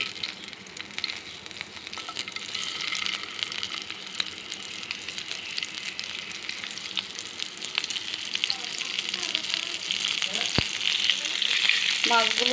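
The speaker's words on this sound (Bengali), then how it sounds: "মাছগুলো দিয়ে দিলাম তাওয়াতে, ভেজে নিই মাছগুলো।" Fish frying on a tawa over a stove gives a loud, continuous sizzle and crackling spatter that builds toward the end, with occasional faint utensil clinks and no talking.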